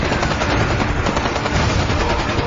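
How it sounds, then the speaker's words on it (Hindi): Dense automatic gunfire fills a dramatized Mumbai terror attack scene, loud, continuous bursts with a helicopter-like rumble beneath, no pauses throughout. "फायर शुरू हो गया, फायर शुरू हो गया।"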